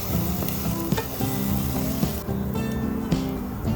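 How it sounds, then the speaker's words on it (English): Cubed potatoes for kanda poha sizzle steadily in a pan, with stirring scrapes and spoon knocks against the metal repeating throughout, close and fairly loud, with no voices. "you can then now mix this really well and let this cook for another 3 minutes until the potatoes become soft and mushy"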